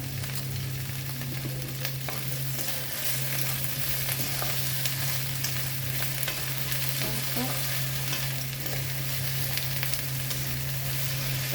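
Okra sautés in a pan with a steady, close sizzle and frying hiss, with occasional soft stirring scrapes and a low constant hum underneath.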